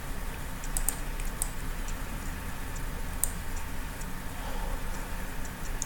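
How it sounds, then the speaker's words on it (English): Soft, scattered taps on a computer keyboard over a steady low background hum, a few sharper clicks standing out. "So I'm typing in RAM."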